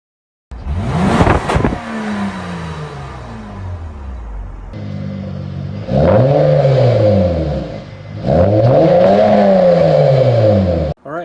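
A replica car with a straight pipe exhaust and oval tip muffler revs loudly up close in repeated bursts, the engine note sweeping up and falling back between blips, with a sharp crack at the start.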